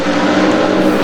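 McLaren race car engine at Mugello in the racing game Assetto Corsa, a steady, loud, buzzing engine drone held at high revs throughout a brief stretch, with no talk over it.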